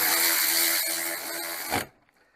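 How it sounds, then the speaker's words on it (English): A power drill running in a garage while custom Scat Procar seats are fitted to a VW Baja Bug Beetle, one loud continuous whir that cuts off abruptly near the end. "you see I'm drilling and everything"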